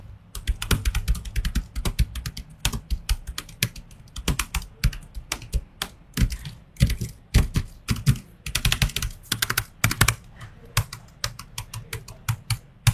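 Rapid clicking keystrokes on an AMD laptop's office-style keyboard, a busy irregular patter of sharp taps with brief pauses, close and fairly loud.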